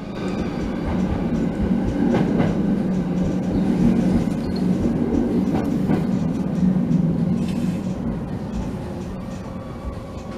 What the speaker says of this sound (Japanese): 駒川駅3番線に入線です。